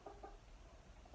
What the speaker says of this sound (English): Boaz, the evil chicken.